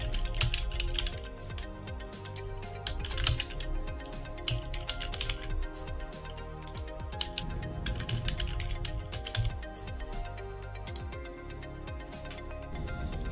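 Fast typing on a computer keyboard, a dense stream of close, crisp key clicks with brief pauses and occasional heavier taps, steady throughout.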